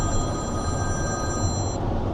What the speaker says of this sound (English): hey up, phone's ringing again